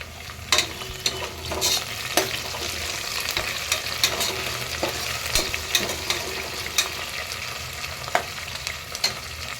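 Curry leaves, mint and slit green chilies frying with onions for mutton curry, giving a continuous close sizzle broken by sharp scraping stirs and clinks at irregular intervals.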